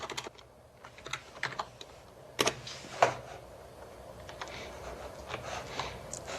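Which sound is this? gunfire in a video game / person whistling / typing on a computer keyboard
typing on a computer keyboard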